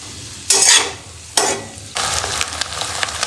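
Oil frying and roasting for egg chilli in a pan: bursts of loud sizzling and stirring come in separate surges, then settle into continuous crackling sizzle, close by and with no talk.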